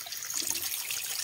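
Strong flow of water from a supply line, likely near a carabao bathing pool, a steady broadband hiss and splash with no break, fairly loud and alone throughout.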